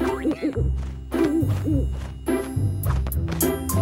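A cartoon owl from a nursery-rhyme song gives a series of loud, close hoots in a bouncy rhythm, set against light musical backing.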